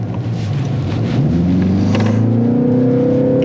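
A BMW 330i xDrive M Sport engine pulls under acceleration, its low drone rising steadily in pitch over a few seconds, heard loud from inside the car with a wind-like hiss behind it.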